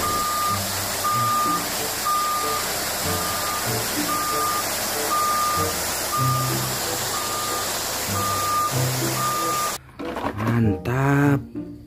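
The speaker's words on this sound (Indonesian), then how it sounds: "Wow, ini ada truk pasir lagi," A yellow sand truck reverses with a steady, evenly spaced electronic beep under its rumbling engine and road noise, and a voice speaks near the end.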